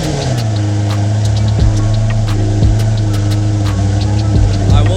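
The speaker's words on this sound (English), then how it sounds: "There's something oddly satisfying about hearing a V12 start up" A V12 engine with a gated manual, at a Caffeine & Octane car meet, running steadily at idle with a deep, constant drone and a few brief throttle blips, close by under crowd chatter.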